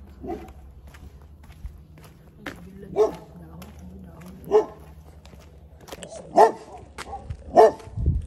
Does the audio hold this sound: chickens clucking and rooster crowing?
no